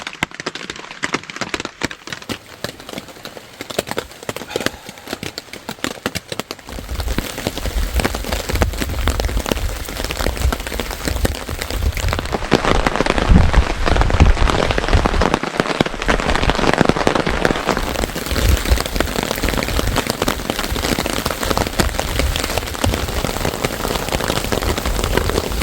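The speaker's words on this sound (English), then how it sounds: "I'm getting a little bit of rain" Rain falls on a tent at a lakeside campsite, starting as a light, scattered patter and thickening after several seconds into a dense, continuous drumming that stays close and fairly loud.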